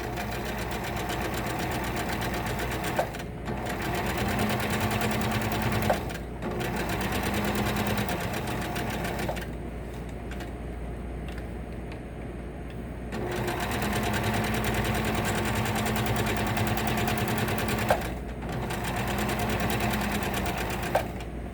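A sewing machine stitches fabric along a seam with pivoting. It runs in steady mechanical bursts that stop briefly every few seconds, with a longer pause midway, and no one talks over it.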